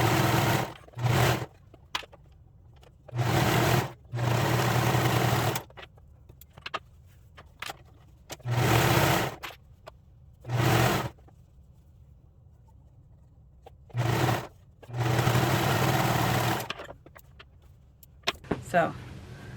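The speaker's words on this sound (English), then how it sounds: "again, I will meet you at the sewing machine" A sewing machine stitches a hoodie in short bursts of whirring, several runs of a second or two each with quiet pauses between and small handling clicks.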